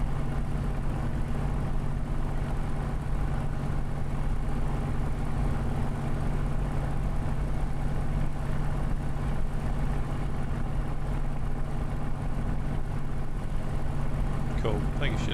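A Spitfire's engine in Microsoft Flight Simulator drones as a steady, continuous hum with a low rumble, unchanging throughout at moderate loudness.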